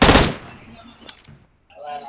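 Gunfire in the video game PUBG Mobile: a short, loud automatic burst at the start, then quieter, scattered shots and game noise with a voice talking over it.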